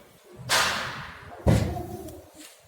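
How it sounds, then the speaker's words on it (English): Door of a BC-CR708 common rail diesel injector test bench being shut: a sharp swishing impact followed a second later by a heavier close thud, indoors, with no talk. "And then close the door."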